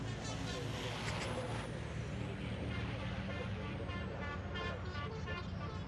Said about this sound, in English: Listen to the air horns.